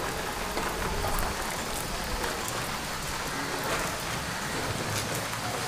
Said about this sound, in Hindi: मौसम जो है वो बारिश वाला है, बारिश हो रही है बाहर